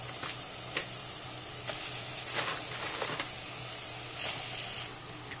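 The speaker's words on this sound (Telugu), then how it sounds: "ఇప్పుడు దీంట్లోనే మనం క్లీన్ చేసి పెట్టుకున్న క్రాబ్ అనేది వేసుకోవాలి." Cleaned crab pieces fry in a thick curry gravy in a pan, with a steady close sizzle and a few soft stirring scrapes and splutters, and no voice over it.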